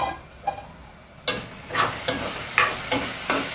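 Tomatoes cook in a pan for a ridge gourd curry, with soft sizzling under repeated stirring scrapes that come in an irregular rhythm, close up and without talk.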